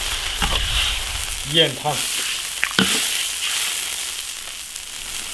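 Beef intestine and chicken stir-fried in an iron wok, a crackling sizzle running throughout with brief clanks, while a voice speaks over it.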